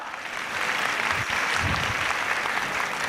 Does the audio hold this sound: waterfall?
no